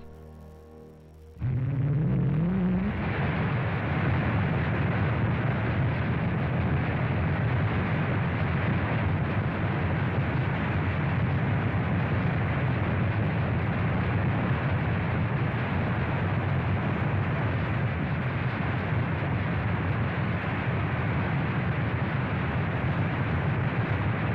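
A Navy Viking single-stage rocket launches: after a brief quieter opening, a sudden sustained roaring rumble of the engine sets in and stays loud and steady throughout.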